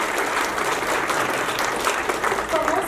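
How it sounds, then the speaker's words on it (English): Audience applause at a book presentation about pilots, a dense, steady wash of clapping from a seated crowd that holds even for the full three seconds, with faint voices mixed in beneath it. "I just want to clap for you because you make this possible."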